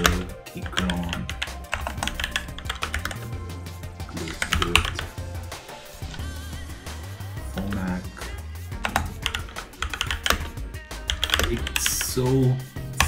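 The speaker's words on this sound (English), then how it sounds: "it's very tough to type with this because the keyboard layout is new" Typing on a Keychron K2 V2 mechanical keyboard, a dense run of quick key clicks and clacks with music playing underneath, no talking.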